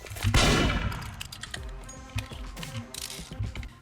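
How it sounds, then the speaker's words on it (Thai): A single loud gunshot rings out in Roblox Murder Mystery 2, followed by softer clicking and clattering game noises that trail off over a few seconds, with no talking. "เก็บปืน แล้วต่อไปจะยิงมัน"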